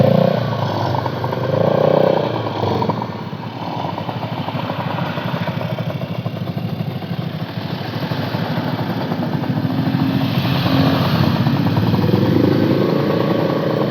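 An old classic motorcycle engine runs steadily with a low, clattering rumble, holding a constant pace as it rides along, with no voices.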